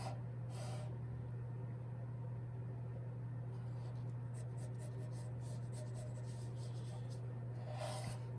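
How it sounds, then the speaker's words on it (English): Pencil or pen drawing a line from hip to knees on a human figure sketch, a soft continuous scratching rub over a steady low hum, with brief louder strokes near the start and end. "We're going to draw a line connecting from the hip area"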